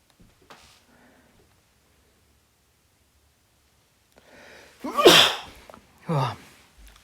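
A single sharp, close sneeze from a man after a quiet pause, with a short inhale beforehand and a brief breathy follow-up.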